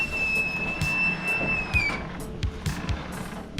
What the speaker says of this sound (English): While I was changing wagons, the train started making noises and was about to start moving.